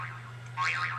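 An iPhone plays its boing ringtone, a short springy tone that bends upward in pitch and stands alone over a steady low electrical hum.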